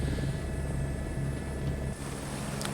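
Steady, loud turbine whine and rotor drone of an Airbus H125 helicopter in Microsoft Flight Simulator 2024, continuous and close, with a slight dip near the end.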